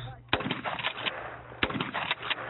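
Renata Gamba shotguns fired at clay targets by women shooters, several sharp reports spaced irregularly over a couple of seconds, one near and others farther off, with faint voices in the background.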